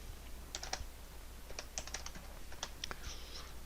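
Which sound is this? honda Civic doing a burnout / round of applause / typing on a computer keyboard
typing on a computer keyboard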